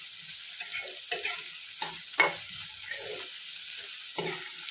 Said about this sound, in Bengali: আরো 2-3 মিনিট ফ্রাই হবে।